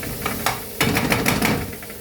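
Masala spices stirred in a hot pan for chicken keema, short scraping strokes of a spoon in a quick rhythm over a soft sizzle, close and brief.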